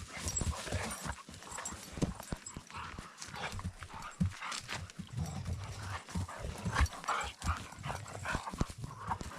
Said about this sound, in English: Now we're going to go see what the dogs are up to.